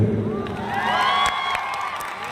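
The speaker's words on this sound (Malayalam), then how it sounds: "ഒരു പ്രാവശ്യം കൂടെ ആ കയ്യടി തരുമോ?" A theatre audience at a Sarkeet movie event applauds and cheers, with a dense, steady crowd roar and scattered whoops and whistles running throughout.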